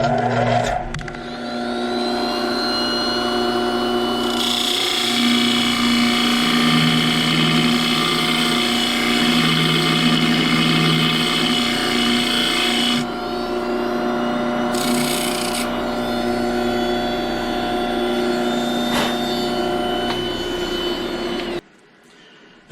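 A sander runs in a workshop while a tungsten grinder head is aligned, giving a loud, continuous motor whine with steady tonal hum and scraping texture that cuts off abruptly at the end.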